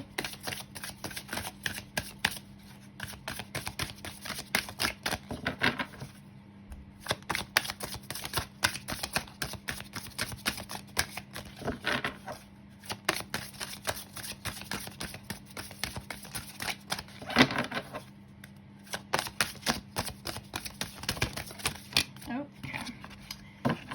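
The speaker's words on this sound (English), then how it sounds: "I'm going to pull out some cards from the Butterfly Oracle" Butterfly Oracle cards being shuffled and drawn for a tarot reading, a steady run of soft papery riffles and flicks that keeps going under a low hum, close and quiet.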